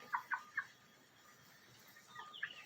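Young chickens in their run make a few soft, close clucks in quick succession, then brief chirpy calls follow after a short pause, all fairly faint.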